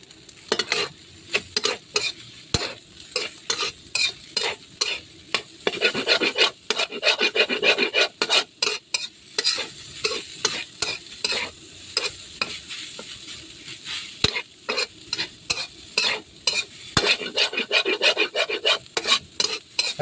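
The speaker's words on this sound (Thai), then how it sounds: "เอาไปผัดแล้วนะครับ" Rapid scraping and clattering of a utensil against a wok as Thai-style pork and egg fried rice is stir-fried, a rhythmic series of sharp rasping strokes over a soft sizzle.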